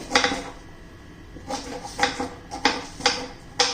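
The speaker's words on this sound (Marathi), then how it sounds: "आता पहिलं बघा मी हा घेवडा कट करून घेते" A knife taps sharply on a cutting board while ghevda beans are chopped: several crisp, irregularly spaced cuts, close and moderately loud, with no talking.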